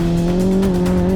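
A race car in a desert race holds a loud, steady engine note with a strong sustained whine and some tire noise, close and constant, with no voices.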